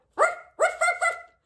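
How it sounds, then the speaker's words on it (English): A big dog barks four times, loud and close: one bark, a pause, then three in quick succession, with no talking. "You see this dog?"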